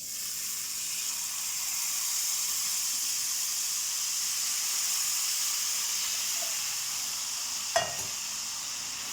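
Hot melted sugar syrup poured slowly into semolina halva, giving a steady broad sizzling hiss that holds for several seconds, with a brief clink near the end.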